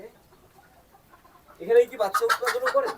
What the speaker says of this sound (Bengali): আপনার ডিম পাড়া মুরগিগুলোকে তারা সুন্দর করে রেখেছে